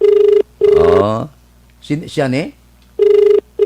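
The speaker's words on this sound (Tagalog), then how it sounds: "Nagring ang iya telepono." A landline telephone rings during a call-in radio news programme, with repeated steady electronic ring bursts at the start and end, loud and clear, broken by a stretch of talk in the middle.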